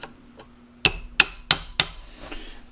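Four sharp metallic hammer taps, evenly spaced and close, seat a part of a Ruger 10/22 rifle into place, following a couple of faint clicks, in an otherwise quiet room.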